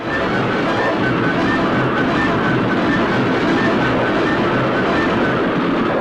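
Steady, loud rumbling of a train rolling along the track, a continuous broadband roar with no pauses or voices.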